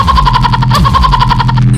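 A motorbike engine drones close by with a steady, slightly wavering pitch for under two seconds, as if passing nearby.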